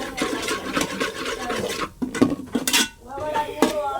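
A chicken curry masala stirred in a pan gives close, clattering scrapes and clinks of a spoon against metal in quick, uneven bursts, with no talk.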